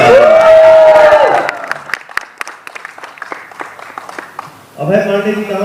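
Audience at a Times Music Bhojpuri stage event breaks into scattered, moderately loud clapping, with voices speaking before and after the applause.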